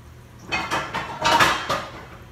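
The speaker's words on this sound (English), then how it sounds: "Let me get a bigger skillet, y'all." A bigger skillet clanks as it is pulled out and handled for frying squash and cornbread fritters, giving several close metallic knocks and scrapes over about two seconds with no talking.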